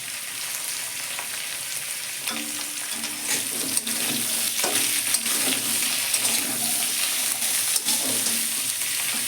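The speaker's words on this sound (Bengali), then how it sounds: "গ্যাস জোর দিলাম দেখুন এই তেল কাটাগুলো সব আমি ভেজেও নিয়েছি" Hilsa fish fat pieces sizzle and crackle steadily in hot oil in a wok over a high flame, a continuous close frying hiss with small pops throughout and no talking.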